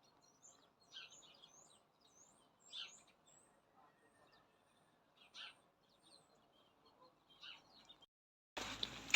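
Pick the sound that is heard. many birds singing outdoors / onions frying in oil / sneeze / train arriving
many birds singing outdoors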